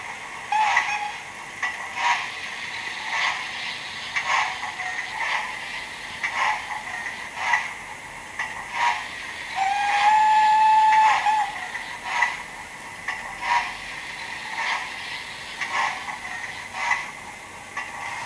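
Hornby Franco Crosti 9F model steam locomotive with TTS sound: a steady rhythmic chuffing beat over constant hiss, with one short whistle tone partway through, moderately loud and with no voices.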